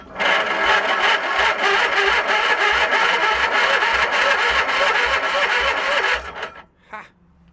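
The starter on an old Cushman meter maid cranks its engine in a fast, even chugging rhythm for about six seconds without catching, then cuts off and leaves a brief faint rattle.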